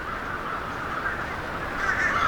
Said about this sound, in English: Yes, over here are all the crows.